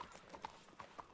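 Hooves of a sturdy war horse clip-clop in a Red Dead game, several crisp, evenly spaced hoof strikes at moderate distance in a quiet scene.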